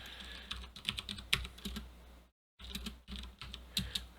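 Quiet, close typing on a computer keyboard while coding, with irregular clusters of light key clicks, one short pause, and then more tapping.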